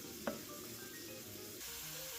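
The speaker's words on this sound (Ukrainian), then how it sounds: "і смажимо це все поки грибний смажений запах буде стояти на всю хату" Mushrooms sizzle and fry in a pan in a home kitchen, a steady soft hiss with one small pop near the start and a slight rise in the crackle toward the end.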